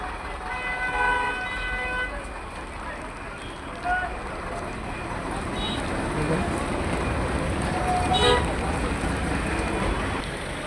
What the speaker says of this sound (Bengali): পুরা রাস্তা জাম লেগে গেছে